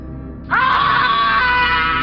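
After half a second of near quiet, a person lets out a sudden loud scream that holds strong and steady to the end, heard alone.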